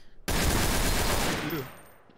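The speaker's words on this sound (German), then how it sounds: "Ich hab grad Schüsse gehört" Gunfire in the video game Trouble in Terrorist Town, a sudden loud burst of rapid shots or a blast that starts abruptly, roars briefly and then fades away.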